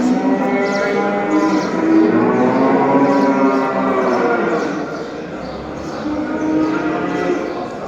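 Cows moo repeatedly in long, drawn-out calls at a busy live animal market in central Kahramanmaraş, close and loud over a steady crowd murmur, with faint voices in the background.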